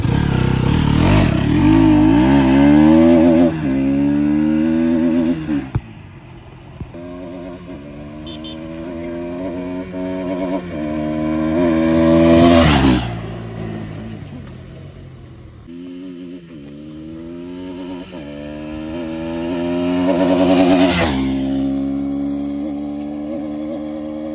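A Bajaj Pulsar RS200 fitted with an Akrapovic exhaust makes repeated loud passes, engine revving up and down through the gears, with two strong fly-bys peaking and fading between stretches of steady mid-range drone.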